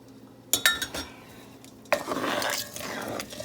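Spoon stirring homemade caramel icing in a pan, a couple of sharp metal clanks against the pan, then a steady scraping and swishing stir with faint bubbling, close by and with no talk.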